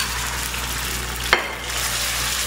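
Shredded pork dropped into hot oil in a wok gives a steady, fairly loud sizzle, with one sharp clatter partway through before the frying continues.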